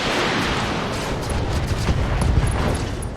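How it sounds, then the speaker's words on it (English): MG tracer ammunition explodes in the RogueTech mech combat game, a dense, continuous rumbling crackle of blasts and booms that swells slightly toward the end, with no talking. "MG tracer ammo explosion."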